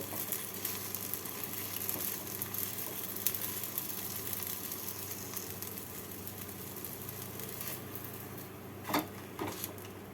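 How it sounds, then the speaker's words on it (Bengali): Semolina chila frying in a pan, a faint steady sizzle and crackle with a couple of brief spatula clicks toward the end, with no talking. "যেভাবে ওপরের দিকটা ভেজে নিয়েছি নিচের দিকটাকেও সেইভাবে ভেজে নেব"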